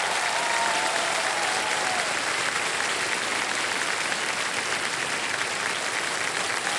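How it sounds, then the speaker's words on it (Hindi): A studio audience on Kaun Banega Crorepati applauds steadily for a contestant who won Fastest Finger First, a dense, sustained clapping that fills the whole stretch without pause. "ताली बजती रहे इनके लिए।"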